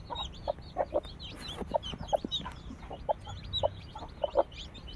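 A hen clucks in low, regular bursts while newly hatched chicks peep in high, rapid chirps all around, close and steady.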